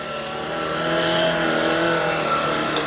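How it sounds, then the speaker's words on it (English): A Shark cordless stick vacuum runs at maximum suction on carpet, giving a loud, steady motor whine that swells slightly after the first second and holds continuously. "And then I can press that trigger, go to maximum suction."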